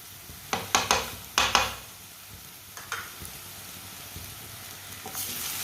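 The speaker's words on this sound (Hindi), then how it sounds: "अदरक और लहसुन को भी 1 मिनट के लिए पका लेंगे।" Crushed ginger and garlic hit hot oil in a pan while cooking kaleji masala, giving a burst of loud sizzling and stirring clatters that settle into a quieter steady frying hiss.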